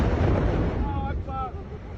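Heavy bombing strikes in Beirut, Lebanon, as a dense, continuous roar of blasts and low rumble fills the scene, loud and close, with faint voice-like tones mixed in partway through.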